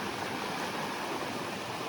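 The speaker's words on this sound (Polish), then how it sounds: "A tutaj trochę większy potok, chylaty, powyżej wodospadu" A mountain stream rushes over natural rock steps just above a waterfall, a steady, close, dense wash of flowing water with no pauses.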